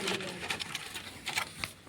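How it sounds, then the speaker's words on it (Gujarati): A pigeon in a nest box gives soft repeated coos at close range, in short pulses against a faint background hiss. "એક કબૂતર બેઠું છે અત્યારે ને જોઈ શકો છો માળો પણ બનાવેલો છે"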